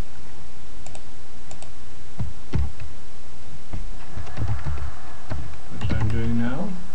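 Someone types a web address on a computer keyboard, producing loud, close, irregular key clicks and taps, with someone talking over the last part.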